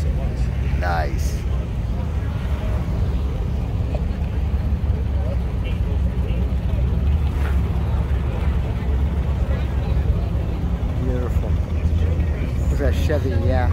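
A Chevy car rolls onto the show field at the AACA Hershey car show, a steady low engine rumble continuous throughout with crowd chatter and people talking over it.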